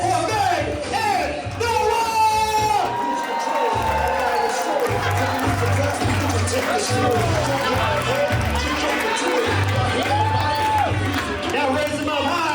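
Wedding reception guests at Union Event Space in Kansas City cheering, whooping and clapping as couples are introduced, a loud crowd roar under an amplified announcer voice and music throughout.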